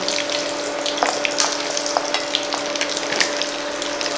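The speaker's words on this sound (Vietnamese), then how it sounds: "Mình đã bật bếp và bây giờ mình sẽ chiên giúp mẹ nha." Side ingredients such as sausage, fish balls and vegetables for a cheesy tteokbokki pan frying in hot oil, a steady close sizzle with occasional brief pops and crackles and no talking.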